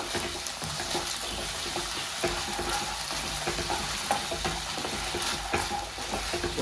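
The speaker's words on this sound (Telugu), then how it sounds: "జస్ట్ ఒక వన్ మినిట్ చాలండి వన్ మినిట్ వేయించుకుంటే చాలు" Gobi manchurian cauliflower frying in a pan with tomato ketchup, a steady sizzle with occasional stirring scrapes throughout, moderately loud and continuous, no talking.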